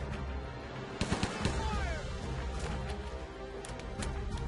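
Gunfire from the Rambo video game bursts out in a cluster of sharp shots around the middle, followed by further scattered blasts over a busy game soundscape, moderately loud, with no talking.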